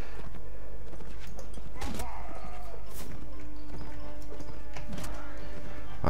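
A horse in the game Mount and Blade Warband makes scattered hoof clops and thuds amid other clattering game sounds, fairly loud over a constant low background hum.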